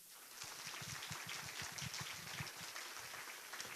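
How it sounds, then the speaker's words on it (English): Steady crowd applause at a panel discussion, a dense wash of many hands clapping at a fairly even level throughout, with no voices standing out. "please give a big round of applause for the Mayor of Greater Manchester, Mr. Andy Burnham."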